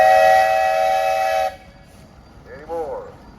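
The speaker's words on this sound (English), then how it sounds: "All right, Mr. Fry, you got a whistle" A steam engine whistle sounds at a steam and threshing show parade in Mason, Michigan: one loud, sustained blast of about a second and a half that cuts off sharply and leaves quiet outdoor ambience.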